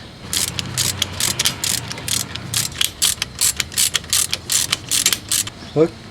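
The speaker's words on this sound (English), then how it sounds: "then you can torque them down" Hand ratchet tightening front brake caliper bolts on a 1998 Audi A6 Quattro, a rapid close series of clicking strokes in a steady rhythm for several seconds, with no talk.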